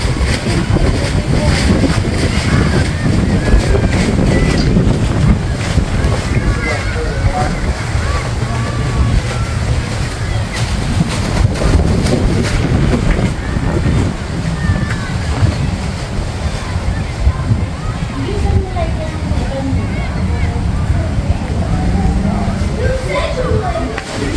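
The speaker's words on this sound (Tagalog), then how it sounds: "Lakas ng hangin dito" Strong wind roars continuously across the microphone with surf-like rushing, while people talk intermittently over the loud, steady buffeting.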